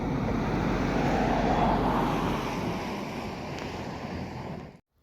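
The River Wye runs in a brisk current with a steady broad rush of water, loud and unbroken, easing slightly before it cuts off.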